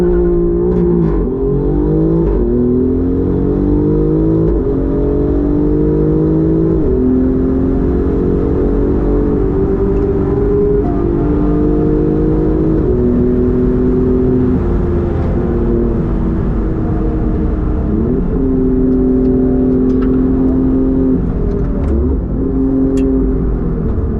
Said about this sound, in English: I really like the sound of the exhaust because it reminds me of a GT2 RS